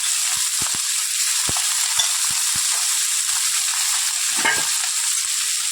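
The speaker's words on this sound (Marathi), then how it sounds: "छान अशी परतून घ्यायची ती जास्त परतायची नाही आहे" Finely chopped cabbage stir-fried in a pan for Schezwan fried rice made from leftover rice: a steady, loud sizzle with scattered soft clicks and scrapes of the spatula, no talk.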